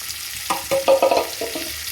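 Eggs frying with whole cumin in a hot pan, stirred and flipped, giving a short burst of sizzling with several quick scraping stirs, close and fairly loud.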